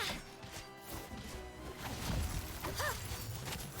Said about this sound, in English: minecart smashing your skull in.